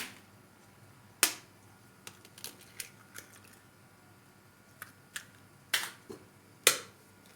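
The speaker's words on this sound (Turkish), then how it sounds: "4 tane yumurta kırıyorum" Four eggs are cracked into a bowl of sugar for a cake batter, sharp close shell cracks and small taps scattered irregularly over several seconds in a quiet kitchen.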